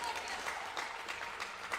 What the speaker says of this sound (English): Big applause from the Cobras crowd.